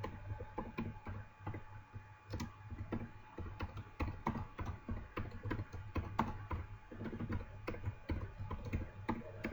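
Steady rapid typing of HTML code on a computer keyboard, crisp key clicks in an irregular stream, fairly quiet and close, with no voices.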